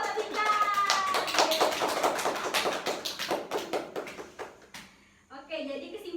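Classmates clap for a student named Rita in a school lesson on the Prophet's hijrah to Yathrib, a few seconds of quick, uneven hand claps under voices, fading out before a teacher's voice returns.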